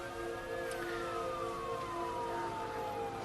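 An ambulance siren wails at a distance, a faint single tone that holds, then glides slowly downward, sounding behind a low steady background hum with no voices.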